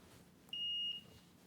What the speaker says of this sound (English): let's do a continuity check just for safety